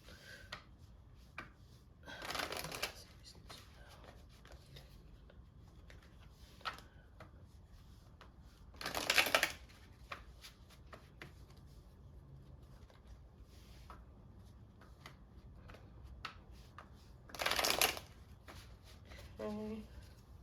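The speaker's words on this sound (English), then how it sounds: "let me just shuffle a little bit more" Tarot cards being shuffled in three short, soft bursts spaced several seconds apart, faint and close against a quiet room background.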